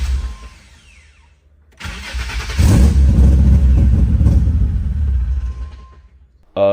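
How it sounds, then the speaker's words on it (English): Nissan 350Z with a swapped VQ35HR V6 starting: a quiet cranking, then the engine catches near two seconds into a loud, steady idle rumble that slowly eases, ending with a sudden loud rev burst. "Got it to run, move under its own power."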